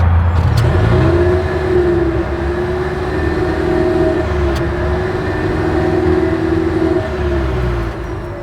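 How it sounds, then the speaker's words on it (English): Exhaust of a 2025 Toyota RAV4 Hybrid with AWD, a close, loud and steady engine hum with a sustained tonal drone that dips slightly midway, a couple of sharp ticks, and no talking. "As always, here is that exhaust clip."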